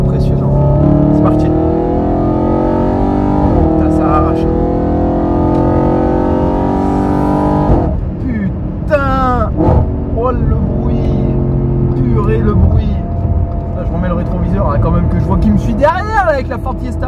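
An Audi RS4 roars loudly nearby, its engine pitch climbing through sustained revs, then dropping into sharp, repeated throttle blips, with voices heard over the noise.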